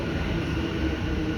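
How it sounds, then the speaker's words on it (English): A Sunbury line train arrives at West Footscray station, a steady low rumble of wheels and motors filling the platform, moderately loud and continuous over the brief moment. "Here it comes, the Sunbury train."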